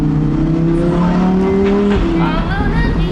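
Lamborghini Huracan Performante Spider running at Barcelona, with a loud, continuous engine drone whose pitch climbs and settles, close by, while someone talks over it.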